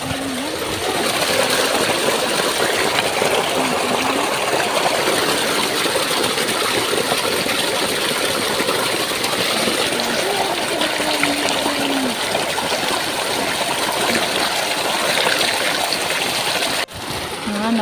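Water gushes steadily and loudly from a farm borewell pump in the fields, a continuous rushing flow with a faint engine hum beneath and a brief break near the end.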